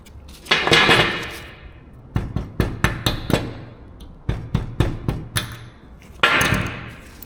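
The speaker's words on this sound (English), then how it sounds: "I need to put this retaining clip on." Brake line retaining clip being tapped into place on a 1978 Lincoln Mark V, a series of sharp close knocks and metal clicks in irregular bursts, with brief scraping in between and no speech.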